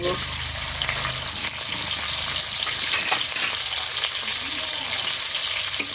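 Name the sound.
onion, garlic and green chilies frying in hot oil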